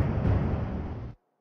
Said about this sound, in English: Because the shooting sounds very loud.